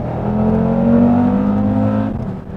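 A Stage 2 Audi RS3 engine revs up loudly in sport mode with the exhaust valve open, rising in pitch to a strong growl before easing back, close and without talking.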